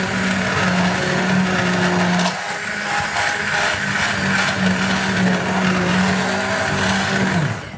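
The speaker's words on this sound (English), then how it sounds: "So we're just going to blend that now" A hand blender whirs steadily as it purees tomato and lentil soup in a pan, a loud continuous motor drone with a brief dip in pitch partway through before winding down at the end.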